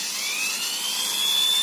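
An iBell electric screwdriver runs steadily at slow speed, giving a continuous high-pitched whirring whine with a faint rising tone, close and fairly loud, with no talking over it.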